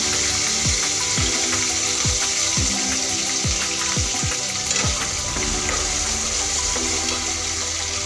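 Tomatoes fry with ginger garlic paste for pav bhaji, a continuous hiss of sizzling cut by a run of quick clattering knocks from stirring, close and fairly loud, with no voices.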